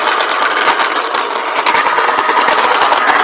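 A pencil grinds in a sharpener, a loud, close, continuous rasping scrape with fast, uneven grainy pulses and no talk.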